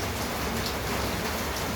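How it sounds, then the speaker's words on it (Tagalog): Steady rain pouring down, a dense, even hiss of drops on surfaces, constant and close with no pauses. "Ulan ng ulan,"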